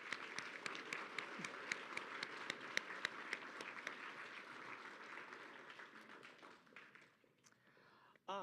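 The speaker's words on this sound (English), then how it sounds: "Let's give them all a round of applause again." Audience applause at a university scholarship award ceremony, a dense patter of clapping from a room of people that gradually thins and fades out near the end.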